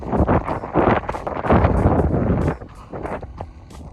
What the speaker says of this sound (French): Je sais pas si vous entendez le vent